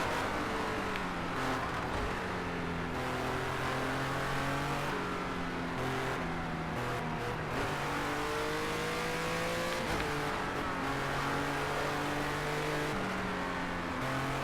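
Race car engines rev and accelerate continuously, loud and close, with repeated rising and falling pitch sweeps and occasional tire squeal, no talking over them.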